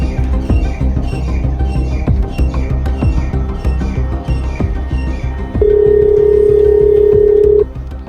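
A telephone call being placed in a Gujarati comedy sketch: a single steady phone tone holds for about two seconds near the end, laid over a busy, continuous music bed.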